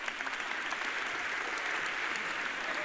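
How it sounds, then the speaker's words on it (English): A round of applause from a live audience at a motivational talk, many hands clapping in a steady, fairly distant wash that carries on evenly throughout. "We give her the round of applause"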